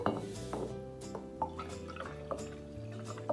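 Liquid pours into a container, heard as close trickling and dripping splashes with small clinks over a faint background hum.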